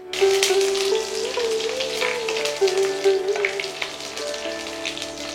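Whole spices for a Bengali cabbage dish, torn bay leaf, crushed cardamom, clove, cinnamon and nigella seeds, crackle in hot oil with a steady dense sizzle, close and moderately loud, faint tonal music underneath and no talking.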